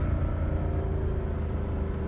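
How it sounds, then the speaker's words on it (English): A Dodge Hellcat Redeye rated at 850 horsepower rumbles through a downshift on a neighborhood street. A deep, steady engine drone sits close and loud for the whole stretch, with no voices over it. "Oh my gosh, the downshifts are amazing on this thing"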